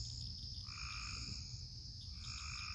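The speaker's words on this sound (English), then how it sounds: "That's a frog in the pond." Frog croaking in a pond outdoors, a steady high-pitched trilling call that rises in layered pulses and repeats, fairly close and continuous over a low background rumble, with no talk.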